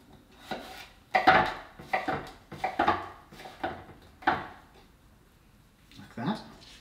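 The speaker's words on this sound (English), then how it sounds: "Just going to thinly slice that." Courgette being thinly sliced on a board with a knife, a run of roughly eight distinct close cuts in an uneven rhythm, a short pause, then one last cut.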